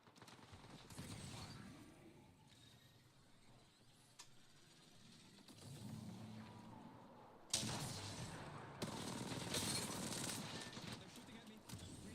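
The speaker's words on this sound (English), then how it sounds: "They're shooting at me." Sustained automatic gunfire in the Apex Legends video game, rattling in long bursts that grow louder and denser in the second half, with game voices speaking partway through.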